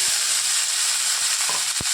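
Steady crackling sizzle of radish greens frying in hot oil, loud and close, with a couple of sharper pops near the end.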